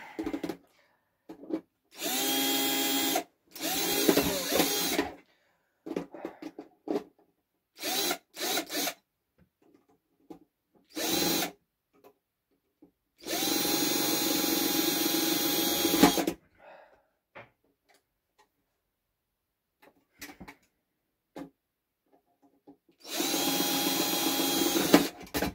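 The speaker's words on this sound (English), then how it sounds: "Drill time." A power drill bores into a metal box in repeated bursts, several runs of steady whining and grinding separated by short silent pauses, close and loud.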